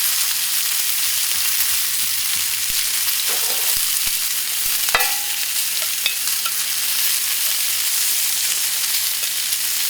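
Chicken pieces browning in a very hot skillet for smothered chicken over rice give off a loud, steady sizzle and crackle, broken by occasional spoon clinks and scrapes against the pan, with no voices.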